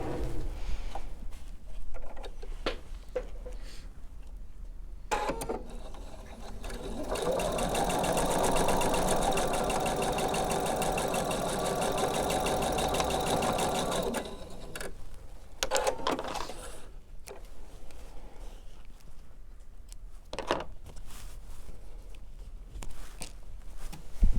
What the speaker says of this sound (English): I'm going to sew on that marked line